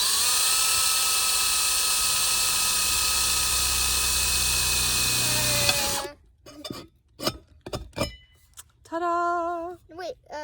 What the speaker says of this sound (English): the drill at the same time so it screws it onto there while you press the button